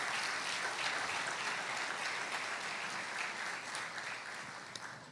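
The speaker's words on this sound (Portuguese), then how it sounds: "aplauda o Senhor" A church congregation applauds during a worship service, a broad continuous clapping from many people that holds steady and then slowly fades toward the end, heard at some distance.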